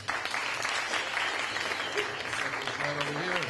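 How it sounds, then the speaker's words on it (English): A live audience bursts into steady, dense applause as a volunteer named Chuck is called up on stage; the clapping holds loud throughout while a voice begins talking over it near the end. "Everybody give Chuck a big round of applause."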